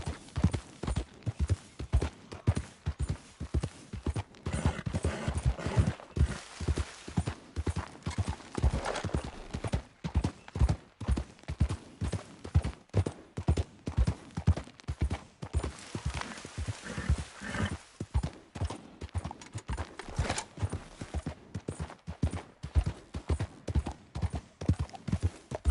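A horse gallops in Red Dead Redemption II, its hooves pounding in a fast, regular rhythm that stays close and prominent throughout with little talk.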